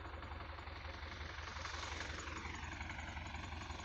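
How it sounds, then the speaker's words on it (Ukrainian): An old YuMZ tractor engine labours steadily while ploughing a field, a continuous loud diesel drone with a rhythmic low knock and no voices. "Таке коротеньке відео хотів вам зняти, поділитися своєю оранкою, своїм стареньким юмезом."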